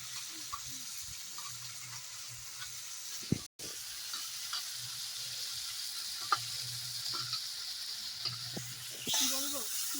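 Crab sautés in a pan with tamarind nearby, giving a faint, steady sizzling hiss. Occasional soft clicks of stirring and a brief louder clatter break it, and a voice briefly appears near the end.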